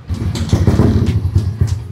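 A Yamaha Aerox motorcycle exhaust blats loud and close in a burbling, uneven throb, with several sharp revving pulses in under two seconds.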